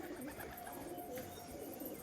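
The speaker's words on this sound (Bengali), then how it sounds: "এই ফাঁকে আমাদের কবুতর উড়ে উঠলো উপরে।" A pigeon coos softly at some distance against faint outdoor background noise, in a short, quiet stretch.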